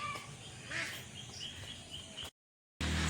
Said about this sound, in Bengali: হাঁসগুলো দেখুন কেমন চলতেছে, আমাদের হাঁস পুকুরে।